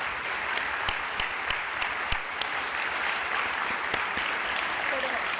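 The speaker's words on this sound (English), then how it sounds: "I'd like to ask her to stand up and receive our grateful applause." Applause from an audience at an arts prize awards ceremony, a soft continuous patter with a few sharper individual claps standing out, fairly distant and even throughout.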